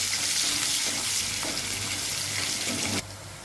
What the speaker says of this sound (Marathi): त्या तेलामध्ये जिरं, 2 तेजपत्ता आणि 1 कांदा परतून घेऊया.